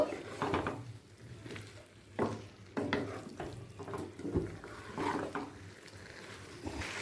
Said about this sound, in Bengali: এরপর দিয়ে দেব সেঁকে রাখা আলু আলুটাও চিকেনের সাথে ভালো করে মিশিয়ে নেব